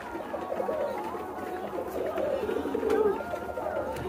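A pigeon coos with a weak, hoarse voice in a pigeon loft, its low, muffled calls soft and hard to make out against quiet background noise.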